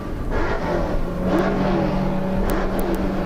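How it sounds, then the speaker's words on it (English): Off-road Pro Light race truck engines rev at a race start at Crandon, a loud, continuous mechanical roar with a droning tone and some clicks and whirs layered on top. "Listen to those engines. They'll hit the revs, dump the clutch, and get ready to go"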